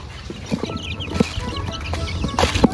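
Newly bought young chickens cluck and peep in short, scattered calls over a steady background hum, close and fairly loud.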